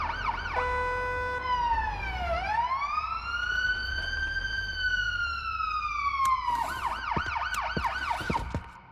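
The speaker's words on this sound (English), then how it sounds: "I'd love to cut my sirens here and just keep the lights on" An ambulance siren in the video game Ambulance Life sweeps through a long rising and falling wail, then switches to a rapid yelping warble near the end, loud and continuous over faint engine rumble.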